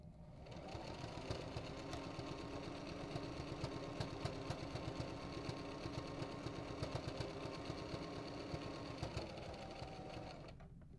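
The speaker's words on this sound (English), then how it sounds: "I'm going to go ahead and machine stitch it just for time's sake." A sewing machine runs steadily, stitching closed the opening of a handmade fabric infinity scarf, its fast even whirr and needle chatter loud and continuous before stopping near the end.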